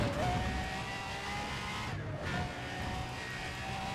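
In the racing video game Need for Speed World, a car engine whooshes past at speed with a brief dip as it goes by, over a continuous loud engine and road-noise bed.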